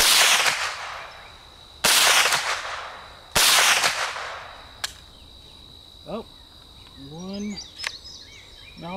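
Gun firing subsonic and hypersonic rounds outdoors: three loud, sharp shots spaced about 1.5 seconds apart, each with a decaying echo, followed by a faint click, a quiet steady hum and brief speech.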